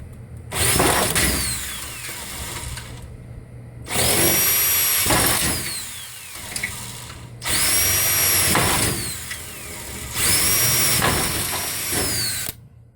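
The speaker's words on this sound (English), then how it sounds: "I'm going to pre-drill a couple holes" A power drill bores pilot holes into the aluminium frame of a screen patio door for a pet door, whirring in four loud bursts of two to three seconds each with brief pauses between.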